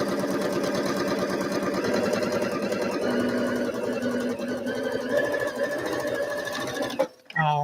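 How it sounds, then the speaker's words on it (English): A sewing machine stitches quilt pieces with a fast, even mechanical whir and needle chatter that runs steadily nearby, then stops abruptly near the end. "Just stitch right up."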